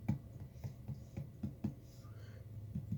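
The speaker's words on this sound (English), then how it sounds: "you have to kind of hit it a bit harder than you normally would to register" Firm fingertip taps on the touchscreen of a cheap 10-inch tablet, a series of about a dozen close, dull knocks in an irregular rhythm, quiet and isolated with no talking.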